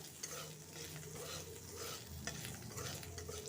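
Ginger and garlic frying in a pan are stirred continuously, giving a quiet, steady sizzle mixed with soft scraping strokes and no talking.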